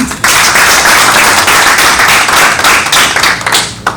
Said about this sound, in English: I request that we really clap for these two women